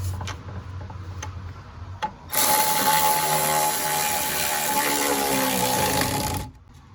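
A power tool tightens the rear seat belt bolt on a 2005 Dodge Neon, starting with a few light clicks, then running as a loud, steady whirring buzz for about four seconds before cutting off.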